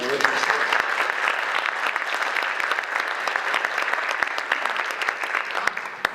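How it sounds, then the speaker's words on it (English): Audience members applaud candidates at a Board of Aldermen election forum, a loud steady burst of clapping lasting throughout with sharp individual claps standing out near the end. "Give them a round of applause, please."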